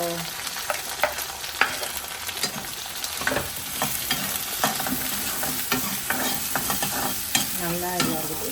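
Onions sautéing with tomato for a tamarind fish curry, a constant close sizzle and crackle under repeated scraping stirs and knocks of a spoon against the pan.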